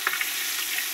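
Fish fries in a pan with a dense, steady sizzle and soft crackles close by, heard alone for one brief second.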